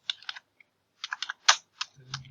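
Typing on a computer keyboard at a command line, with quick bursts of key clicks in short clusters separated by brief pauses, close and fairly quiet.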